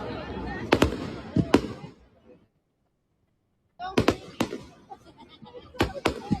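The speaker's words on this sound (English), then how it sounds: "It's even funny about a sideways firework." Fireworks go off sideways at a Fourth of July celebration, heard as repeated sharp cracks and pops in two clusters split by a brief silence, at a moderate distance, with people talking throughout.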